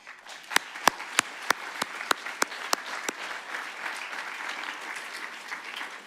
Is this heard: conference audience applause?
yes